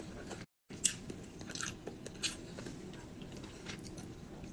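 Crunchy biting and chewing of food heard close up, a few crisp bites amid steady mouth noise, with no talking.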